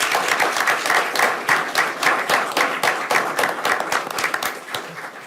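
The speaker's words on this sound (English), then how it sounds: "let's give these folks a round of applause" An audience at a Hardin County school board meeting claps steadily for several seconds, a dense, even round of applause with no voices standing out.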